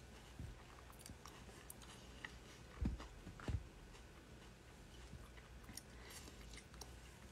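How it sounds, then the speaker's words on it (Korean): Someone chews cherry tomatoes in bed, producing faint, soft wet bites and squishes, with a couple of sharper crunchy bites standing out midway. "방토 먹어요, 방토."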